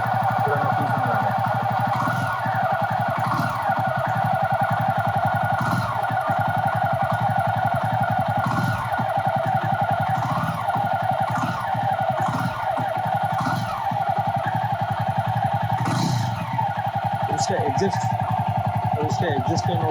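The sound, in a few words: Jawa 42 motorcycle exhaust sound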